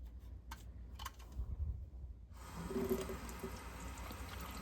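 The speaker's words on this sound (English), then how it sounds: "pull it open, and fill it up with water." Water from a tap filling a toy water blaster through its rear cap, a few handling clicks first, then a steady close rush of running water pouring in.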